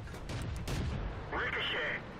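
In World of Tanks, a tank shell glances off armor with a muffled boom and a brief metallic ringing whine over a low battle rumble.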